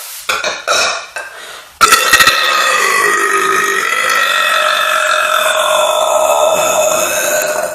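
A few short throat noises, then one long, loud, drawn-out burp that rumbles on for several seconds up close.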